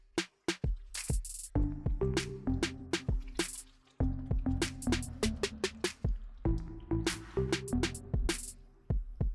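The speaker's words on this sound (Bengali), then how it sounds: "এবার একদম টকবক করে ফোটানো।" Katla kalia, a Bengali fish curry, boils hard in a pan, with thick bubbles bursting in close, irregular wet pops and splats over a quiet background.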